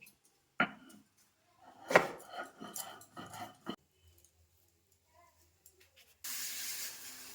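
Poppy seeds and cashews ground into a paste in a quiet kitchen, heard as scattered rough scraping and knocking bursts, followed by a steady hiss toward the end.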